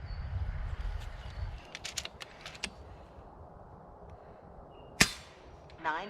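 An FX Impact M3 air rifle fires in a forest, each shot a sharp, sudden crack, with a louder report near the end followed by a brief ringing tail; faint ticks and rustles in between.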